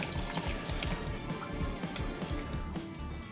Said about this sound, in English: Add some more water in, I think.